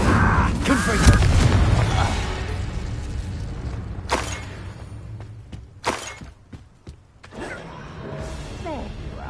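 A Confringo explosive spell goes off in Hogwarts Legacy as several sharp, booming blasts and crackling impacts, with shattering bursts and lingering rumble between them over continuous game sound.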